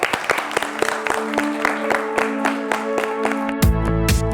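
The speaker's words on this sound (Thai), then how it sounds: "ขอเสียงปรบมือให้กับคุณเมย์ครับ" Studio audience applause on a Thai television fashion show, a steady wash of clapping under bright music with sustained tones, ending in a louder burst.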